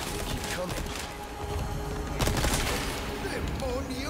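Dense gunfire in the video game Resident Evil 4 during a fight to protect Ashley, shots rattling steadily among chaotic in-game noise over a few seconds.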